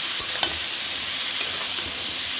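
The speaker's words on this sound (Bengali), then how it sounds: "একটু কষিয়ে নিব সবজি" Mixed vegetables being stirred and sautéed in a pan with a steady close sizzle and a few sharp scraping clicks of the spoon, no voices.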